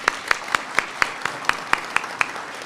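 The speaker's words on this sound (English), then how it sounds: "let's give Novec a round of applause" Clapping at a chamber of commerce candidates debate event, thanking a sponsor. Steady, evenly spaced loud claps, about four per second, sound over a thin background of lighter applause.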